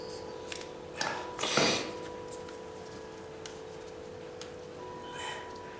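Material is cut along a curve, giving a few faint scraping, rasping cuts with scattered small clicks against a quiet, steady background hum.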